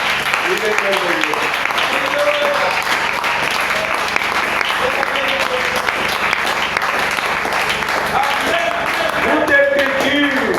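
A church congregation at a Sunday service in Pointe-Noire breaks into loud, sustained applause and cheering, with voices calling out over the steady clapping throughout.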